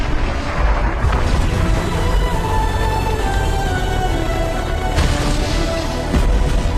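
A loud, rumbling atomic bomb blast from a movie scene roars continuously with heavy low-end debris noise, a dense roadside explosion that keeps booming throughout with no speech.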